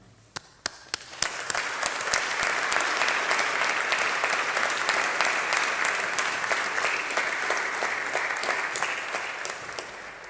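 Applause at a college awards ceremony starts with a few scattered claps, then swells into sustained loud clapping from a large audience that holds steady and slowly tapers.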